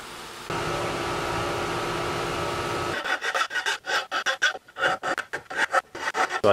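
A file or hacksaw cuts the front off a large handmade metal key for an oversized pin tumbler lock, a steady hum first, then close, rhythmic rasping strokes, loud and regular, with no speech.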